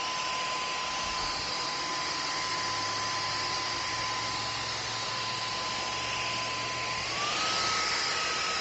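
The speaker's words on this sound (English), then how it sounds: "now it's just kicked into turbo because it's found a lot of dust" Dyson Gen5 Detect cordless vacuum cleaner running loud and close, with a steady whine that steps up in pitch near the end as it shifts into turbo mode over dusty floor.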